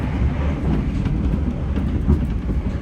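Passenger train rumbling past on the neighbouring track between Cambridge and London, a loud continuous low roar with faint clicks of wheels over rail joints, heard from inside another carriage.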